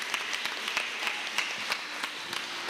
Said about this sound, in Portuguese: Dá uma salva de palmas aqui